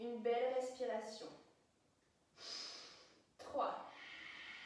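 Deep, close breathing during an advanced warrior-style yoga session: a short voiced, tonal exhale, then two loud, airy rushes of breath separated by a brief quiet pause.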